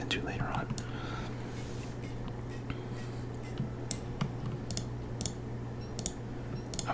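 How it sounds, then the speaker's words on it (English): Scattered soft keyboard and mouse clicks during a Don't Starve Together gaming session, faint and irregular under a steady close whisper. "I'm also gonna try to get some like keyboard and like mouse sounds in there."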